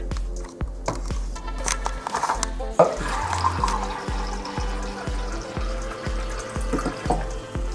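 Water runs from a kitchen tap into a measuring cup while simple syrup is being made, a continuous splashing stream with background music beneath it.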